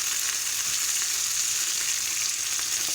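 Spinach wilts in a non-stick pan for scrambled eggs, giving a steady, close sizzle with a bright hiss throughout.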